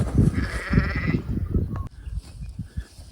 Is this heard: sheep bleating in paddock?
yes